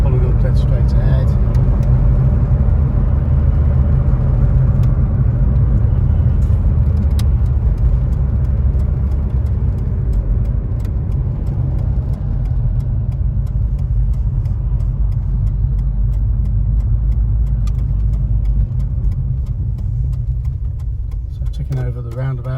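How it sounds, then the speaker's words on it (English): A 1988 Ford Escort XR3i engine ticks over at low revs while the car rolls around a roundabout, a steady close low rumble with someone talking over it throughout. "Ticking over the roundabout there, ticking over about 600 revs per minute."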